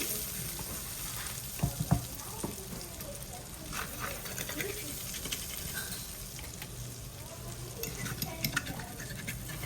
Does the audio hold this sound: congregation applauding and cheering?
no